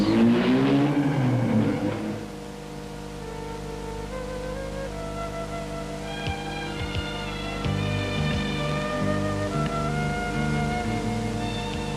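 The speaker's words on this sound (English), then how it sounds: "The normally quiet paved streets echo to the sound of exhausts." Rally car engines roar and rev nearby on paved town streets during the 1979 Sanremo Rally, fading after a pass, then more exhausts rise and echo between buildings as cars accelerate.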